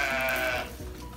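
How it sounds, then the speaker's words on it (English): A sheep in a barn gives one loud, close bleat with a wavering, harmonic tone that trails off, followed by quieter barn noise. "my mother's sheep was very vocal about it"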